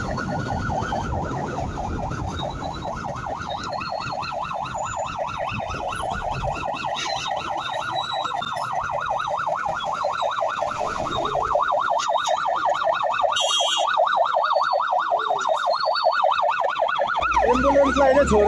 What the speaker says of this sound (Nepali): एम्बुलेन्स चाहिँ त्यस्तो इमर्जेन्सी नपरि चाहिँ यसरी आएको हुँदैन सायदै